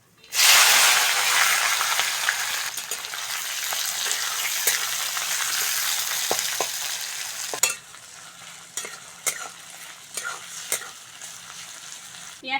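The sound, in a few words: onion frying in a pan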